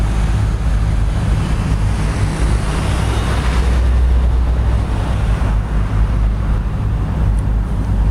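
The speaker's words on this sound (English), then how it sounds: "Hopefully we'll catch another truck going in." A truck passes at night, heard as a heavy low rumble that swells and fades over several seconds, with wind noise and a steady background wash and no talking.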